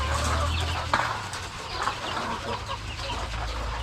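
A flock of hungry RTL laying hens clucking and murmuring together at close range, busy overlapping calls over a low steady hum, with no talking.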